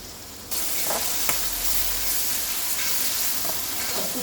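Ginger-garlic paste fries in a pan for a chicken curry, starting with a sudden burst of sizzle that settles into a continuous close hiss with occasional faint stirring clicks.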